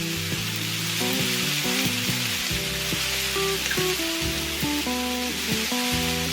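Caponata vegetables sizzle steadily in a hot pan, a continuous crackling fry with a light musical backing playing throughout and no voices.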